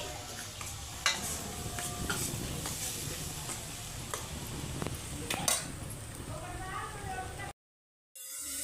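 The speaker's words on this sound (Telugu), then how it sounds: "ఈ టమోటా పేస్ట్ అయితే బాగా మగ్గిపోవాలండి" Tomato paste cooks down in oil for a chicken curry, sizzling steadily while a spoon scrapes and clinks against the pot in irregular strokes, close by, with a voice talking over the cooking.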